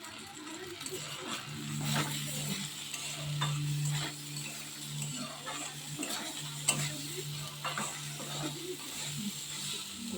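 Spices with turmeric and salt are sautéed in a pan, giving a soft sizzle with scraping stirring strokes and occasional clinks, under a low voice.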